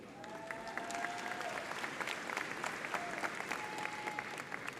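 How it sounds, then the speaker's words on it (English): Steady applause from a large crowd at the West Orange High School class of 2024 graduation ceremony, a dense even wash of clapping that holds throughout, with faint tonal sounds drifting over it. "Please continue your applause for our West Orange High School award-winning graduation band"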